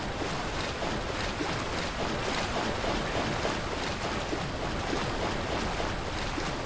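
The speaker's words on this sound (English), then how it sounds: "Is that the water wheel? Yes, the water wheel, right? Is that the noisy machine?" The noisy water wheel machine in Amnesia: The Dark Descent churns as a steady, dense wash of rushing water and mechanical noise, faint and continuous with no distinct beats or voices.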